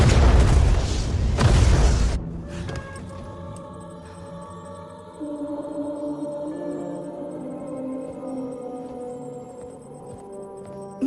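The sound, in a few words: missile explosion in a movie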